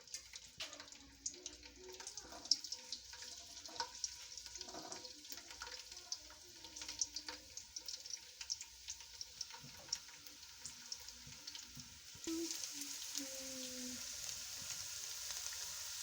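Garlic frying in oil in a kadai, a faint, steady sizzle with scattered light ticks and a few soft tonal clinks, growing slightly brighter and louder in the last few seconds, with no voices.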